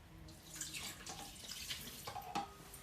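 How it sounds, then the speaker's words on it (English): 200 ml of iced water splashes and trickles softly into a bowl of sourdough ingredients, a faint, brief pour with small drips and gurgles. "We're going to add 200 mils of iced cold water."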